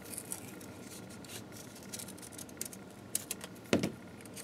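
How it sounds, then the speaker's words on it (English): Scissors snip a heart shape out of a scrap of handmade red paper, soft close crisp cuts and rustling paper, ending with a sharper clack near the end. "So let's cut out a shape"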